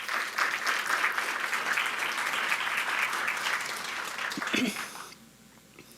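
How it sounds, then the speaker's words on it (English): An audience at a high school changemaker challenge event applauds loudly and steadily for about five seconds, then the clapping fades out into a quiet room. "Could we please give them a round of applause?"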